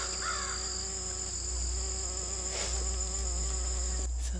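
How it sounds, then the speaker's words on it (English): A loud, steady drone of cicadas fills the air, a constant buzzing chorus with a low mechanical hum beneath it and no voices. "Between the cicadas and my husband working, it's crazy loud."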